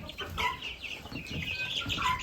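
Barnyard mix chickens give soft, steady clucks and murmuring calls, several birds close together at moderate volume against a constant background hiss.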